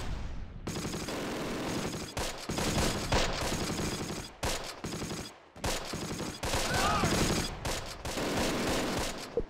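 MG42 machine guns fire in bursts during a World War II battle in the Close Combat strategy game, dense rattling volleys broken by brief pauses, mixed with other combat noise.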